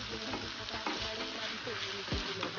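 Onions and garlic sizzling in hot oil, a continuous crackling fry with occasional scrapes of a utensil stirring the pan.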